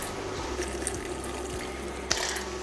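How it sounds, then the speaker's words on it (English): Water runs steadily from a tap into a pot of potatoes for a chowder, a continuous close trickle with a few faint knocks and one brighter splash near the end. "we're going to cover them with just a little bit of water so that they boil in the liquid"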